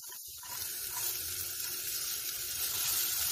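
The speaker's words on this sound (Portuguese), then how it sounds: "Vou refogar bem para eu poder colocar a carne." Onion, bell pepper, chili and tomato sauté in hot oil for ground beef, giving a steady, bright sizzling hiss that holds at an even level throughout, with no talking.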